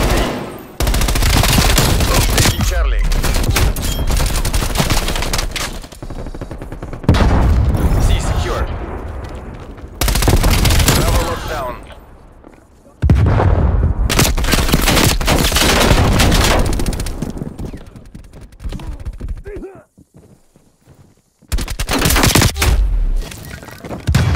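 Heavy automatic gunfire and booming blasts from a Call of Duty Cold War multiplayer match, loud and dense in long sustained bursts with brief lulls between, with shouted voices mixed in.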